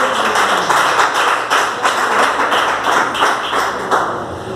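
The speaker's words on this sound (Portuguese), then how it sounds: "Pode aplaudir a Jesus." A worship congregation claps together in a strong, rhythmic beat, loud and evenly pulsed, with no talking over it.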